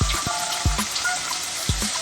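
Curry leaves hit softened fried onions in a pan for cauliflower masala and sizzle steadily, with a few low thumps of stirring under the continuous hiss.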